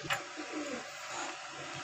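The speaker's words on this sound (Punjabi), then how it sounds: "ਇਹ ਦੇਖੋ ਜੀ ਉਡਾਲ ਵਾਲੇ ਕਬੂਤਰ" Flying pigeons cooing in a loft, a soft low coo rising near the start and then continuing faintly over steady background noise for a brief moment.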